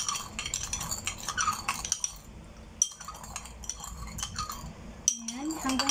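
Stem lettuce salad is tossed with sugar in a bowl, producing close clinks and scraping of a utensil against the dish, with a few brief voice sounds in between.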